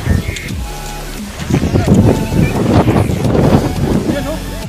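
Strong wind buffets the microphone on a foggy mountain top, a loud continuous rushing roar that surges in gusts, with people talking over it.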